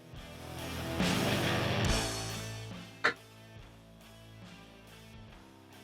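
A single sharp mechanical click from a muzzleloader rifle's screw being backed off stands out against a quiet background with a faint hum.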